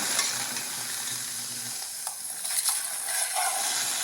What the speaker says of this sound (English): now we are going to put them in a very hot pan and get them cooking